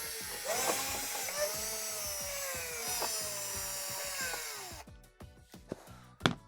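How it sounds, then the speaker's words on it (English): A power screwdriver whines at rising and falling pitch as it backs out the Torx screws holding a blower motor to the cabinet of a Swash by Whirlpool unit, then stops with a few clicks and knocks, close up, no talking. "you're going to remove the 4 Torx screws that hold it to the cabinet."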